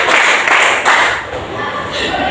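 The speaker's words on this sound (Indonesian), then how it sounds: "Tepuk empat kali." A class of students claps together in a classroom game, a few loud dense bursts of many hands close by, with noisy room chatter around them.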